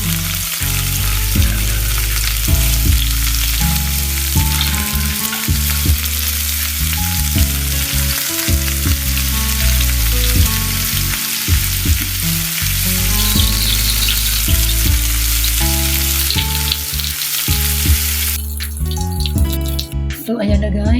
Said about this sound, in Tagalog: So, umpisa na natin mag-fried.